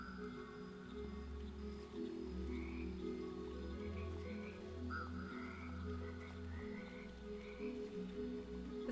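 Frogs croaking in the Mudborne video game, a steady chorus of repeated calls layered over a low continuous drone, sustained and even throughout with no voices.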